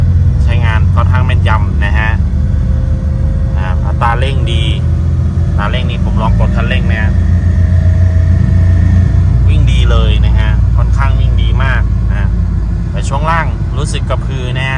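Inside the cabin of a Nissan Navara pickup, with faint play felt in the suspension, a steady engine drone hums continuously throughout while someone talks over it almost the whole time.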